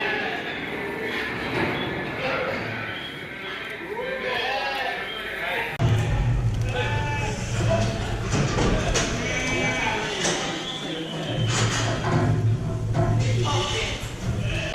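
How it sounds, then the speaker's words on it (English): Lambs bleat repeatedly at a sheep market, with several wavering cries near and far over a busy pen, and a person speaking through much of it. "So these are my lambs here now"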